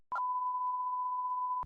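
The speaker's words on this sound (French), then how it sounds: "On va le biper." A single steady censor bleep tone, about a second and a half long, cuts across a French-language talk conversation, loud and alone with only brief noise at its start and end.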